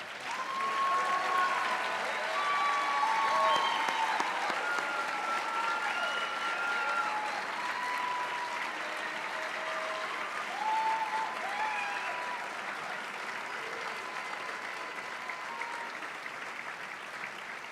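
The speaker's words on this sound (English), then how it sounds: "let's give you one more round of applause" An audience at a nursing white coat ceremony applauds the students, with sustained steady clapping from a large crowd filling the hall, slowly easing off toward the end, with faint voices mixed in.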